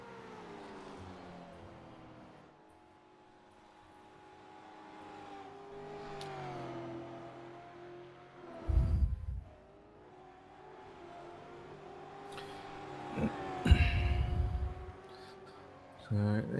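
V8 Supercar racing cars in a video game whine past on the Iowa oval, engine tones rising and falling under continuous commentary, with a couple of louder surges as cars pass close.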